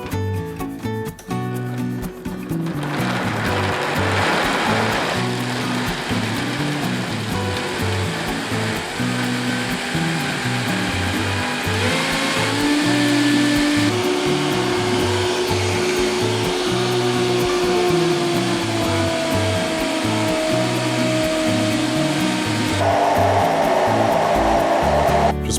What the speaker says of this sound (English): Blend on high speed.